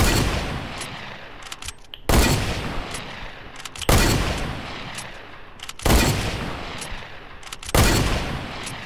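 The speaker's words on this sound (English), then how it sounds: "Of course, hunting rifle." Hunting rifle shots from the Fortnite video game fire in five loud, evenly spaced cracks, each trailing off into a long decaying echo before the next one.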